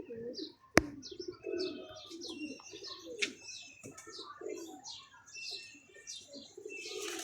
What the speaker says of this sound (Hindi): और ये आपके सामने दोस्तों के, और ये कबूतर है दोस्तों